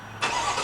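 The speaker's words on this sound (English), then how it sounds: "I'll do the remote start on the key here by pressing it twice and holding it." A 2021 Cadillac Escalade Platinum's V8 with dual exhaust fires up by remote start, a quiet moment broken by a sudden crank and catch that settles into an even, mellow idle rumble.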